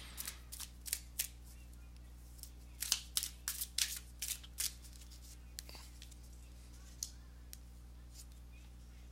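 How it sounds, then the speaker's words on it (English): Tarot cards are shuffled by hand in quick, crisp riffles and flicks, in irregular bursts with short gaps, close and fairly quiet over a low steady hum. "let me go ahead and give these cards a shuffle"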